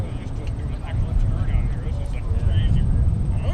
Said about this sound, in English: All right, and here's our Primair 737.